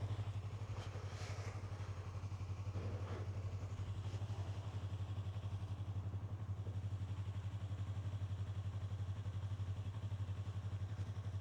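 A Yamaha R3 motorcycle with about 9,000 km on it idles quietly and smoothly, giving a steady low engine hum that stays even and close throughout with no one speaking.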